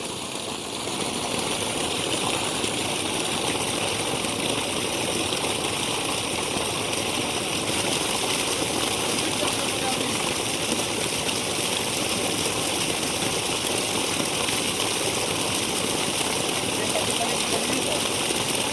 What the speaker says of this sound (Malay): Ini air masih jalan.